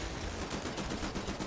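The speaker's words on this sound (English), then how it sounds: "I'm dual wielding assault rifles." Dual-wielded assault rifles firing in the video game Wolfenstein, a rapid, evenly paced stream of chunky, loud shots with no pauses.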